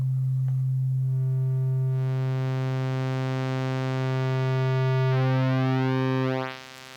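A single sustained note from a Modal Skulpt synthesizer drones steadily, its tone brightening and shifting in timbre partway through before fading out at the end.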